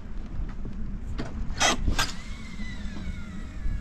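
Wooden boards of a fishing dock creak sharply twice under a footstep, over steady outdoor background noise.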